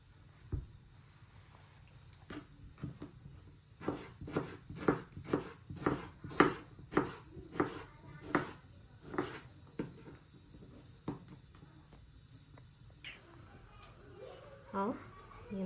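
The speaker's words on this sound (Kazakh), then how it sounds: "Қызанағымызды майда көбіктеп турап аламыз." Tomatoes being finely chopped with a knife on a board, a quick run of about a dozen evenly spaced, crisp chops at close range, with quieter scattered taps before and after.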